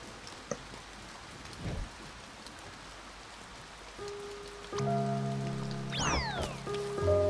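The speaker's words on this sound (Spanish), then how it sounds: "Y ahora encima lloviendo" Steady rain patters softly throughout in the video game A Bird Story, with a few brief drips and, later, sustained tonal sounds and a rising whine layered over the rainfall.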